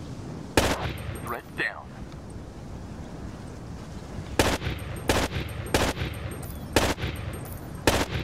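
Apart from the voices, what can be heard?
gunfire in video game Rainbow Six: Raven Shield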